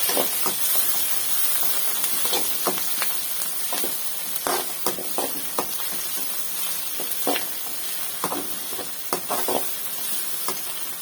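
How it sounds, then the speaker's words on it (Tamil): Onion and tomato sautéing in a pan for a prawn thokku, a steady close sizzle with frequent sharp clicks and scrapes of stirring throughout, no talking. "கொஞ்சம் தக்காளியை போட்டு கொஞ்சம் வதக்கிக்கலாம்"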